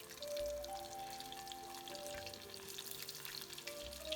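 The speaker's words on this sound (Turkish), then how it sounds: "Bunları da böyle güzel renk alana kadar kızartıyorum." Faint, steady sizzling of spinach patties frying in oil, soft crackles over a low background hum; no one speaks.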